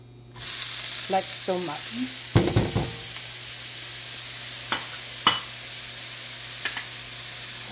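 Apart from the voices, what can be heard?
onions sizzling in a pan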